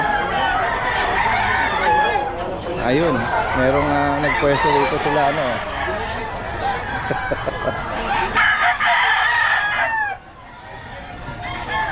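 Roosters crow repeatedly amid a busy pet market din in Bocaue, with people talking nearby over the clucking and crowing.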